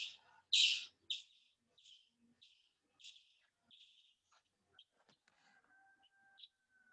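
A bird chirps through a participant's open microphone in an online class, with a run of sharp, repeated high calls that are loudest at the start and then fade to scattered faint chirps.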